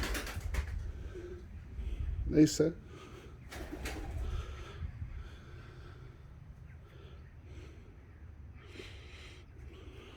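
Pigeons coo softly nearby, with a brief flutter and scuffling, while a person speaks quietly.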